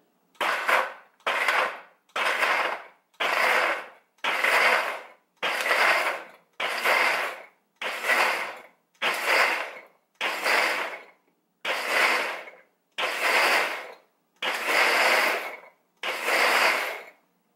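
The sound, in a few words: KitchenAid 5 Speed Diamond Blender running on chop function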